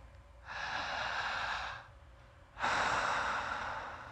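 Two long, airy breaths drawn in through the mouth, close and fairly loud, separated by a short pause, with no talking.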